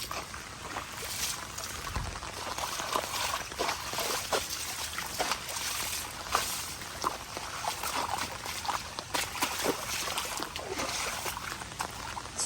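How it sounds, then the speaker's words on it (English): Floodwater from the remnants of Hurricane Debby in Ellicott City, Maryland, splashes and trickles steadily over the whole stretch, with broadband wet noise and repeated brief splashes close by, alone without talk. "Splash, splash in the water."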